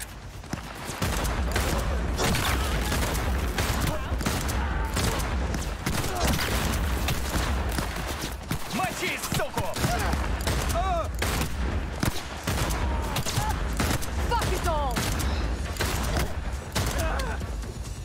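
Rapid, near-continuous gunfire from clearing an enemy camp in the video game Cyberpunk 2077, with loud, close bursts and single shots packed densely across the whole stretch and few pauses.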